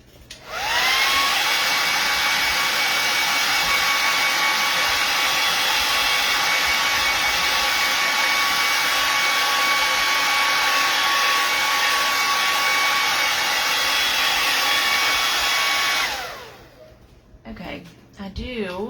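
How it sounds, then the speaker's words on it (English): A hair dryer blows steadily and loudly for about fifteen seconds, drying acrylic paint on a canvas painting of a red-eyed tree frog, with a constant whine, then cuts off as brief talk follows. "Okay, hair dryer again."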